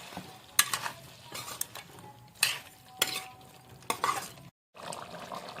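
Desi chicken sautéing in a pan after a glass of water is added, stirred with a utensil in bursts of scraping and sizzling, with occasional metallic clinks against the pan and a brief silent gap.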